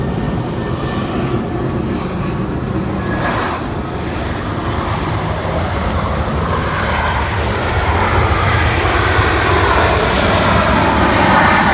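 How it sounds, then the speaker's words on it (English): A Lufthansa Airbus A319 in Star Alliance livery, arriving from Munich at Manchester Airport, makes a loud sustained jet roar that swells slightly toward the end, with no talk over it. "So Lufthansa Star Alliance livery A319 in from Munich."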